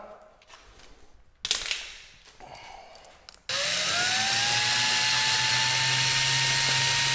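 Power tool driving lag bolts while mounting a level: a few sharp knocks and brief bursts, then a loud, steady whirring drive that holds continuously to the end, close by.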